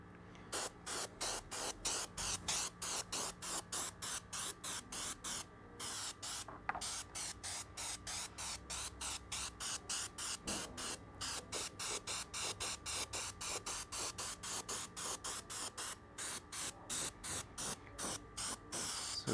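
An airbrush sprays paint onto a scale model with its needle opened up, producing a steady rhythm of short, sharp hissing bursts repeated dozens of times close to the microphone.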